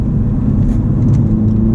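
A modified manual Mini Cooper S cruises along back roads, its engine a loud, steady, close-up rumble with road noise and no speech.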